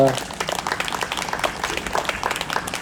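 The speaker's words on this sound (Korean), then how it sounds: "우리 하나님께 영광의 박수를 올려드리겠습니다" Congregation in a church applauding, a dense wash of many hands clapping at once, mixed with crowd noise and voices throughout the short burst.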